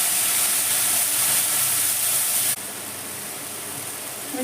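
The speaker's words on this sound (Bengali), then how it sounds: "যে তেঁতুলটা ভিজিয়ে রেখেছিলাম টিফিনটা আমি তেলের মধ্যে দিয়ে দিলাম" Soaked tamarind hits hot oil in a pan while cooking a Bengali sour small puti fish dish, a loud steady hiss of sizzling that drops abruptly to a softer, continuing sizzle.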